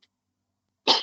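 A single sharp sneeze bursts out in a quiet lecture room, close and loud after near silence.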